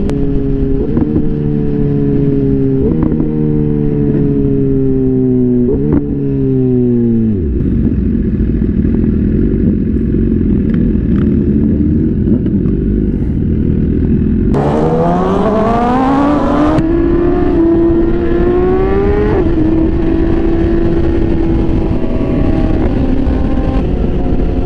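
A motorcycle fitted with a quick shifter pulls hard on a sunset ride, its engine note climbing and snapping up through several quick gear changes, then surging louder into a high, sustained rev, close and continuous with no talk.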